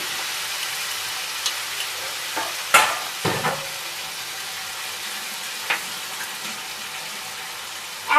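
Mustard and poppy seed paste stirred into hot oil for Bengali tel koi, a steady low sizzle with a few sharp scraping strokes of a spoon against the pan, close and alone.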